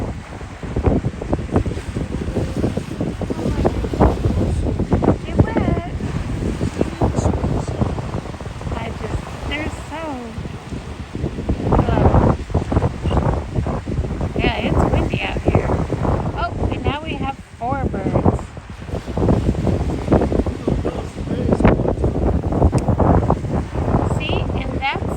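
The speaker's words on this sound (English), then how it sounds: "the wind is picking up" Strong, gusting wind roars across a Gulf of Mexico beach at Treasure Island, Florida, blowing sand into the water, with steady loud buffeting on the microphone and a faint voice now and then beneath it.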